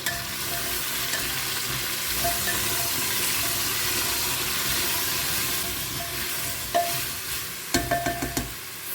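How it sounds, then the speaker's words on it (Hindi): Pav bhaji mixture of potatoes being stirred in a pan over cumin-fried oil, a steady sizzling hiss under continuous scraping, with a few sharper spoon knocks near the end. "अच्छे से इसे पहले मिक्स करें।"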